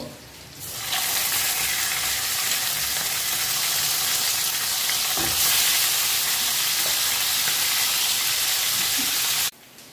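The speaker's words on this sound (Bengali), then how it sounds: "এইভাবেই বাকি দুটো মাংস আমি ভেজে নেব।" Chicken pieces fry in hot oil for a chicken roast, giving a steady, loud, close sizzle that holds evenly for most of the stretch and stops abruptly near the end.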